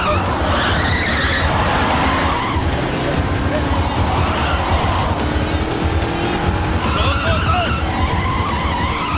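A car skids and turns hard during a movie chase scene, with screeching tires and a roaring engine over dramatic background music, while a voice shouts urgently.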